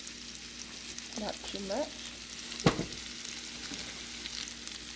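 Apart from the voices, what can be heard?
diced potatoes frying with chorizo in a pan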